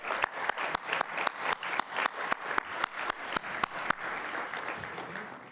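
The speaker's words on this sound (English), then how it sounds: "I want you to give them a special round of applause for all that they do." Audience applause at a business improvement district's annual meeting, a steady roomful of hands clapping with sharp individual claps standing out, loud and continuous with no talk over it.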